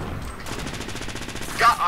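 Rapid machine-gun fire from a multiplayer shooter video game, a fast regular stutter of shots lasting over a second, followed by a brief burst of other sound near the end.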